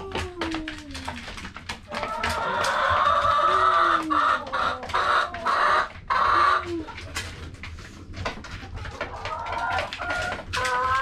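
Chickens in a coop converted from a travel trailer give loud, close clucks and squawks in overlapping runs, with rising and falling calls from several birds at once.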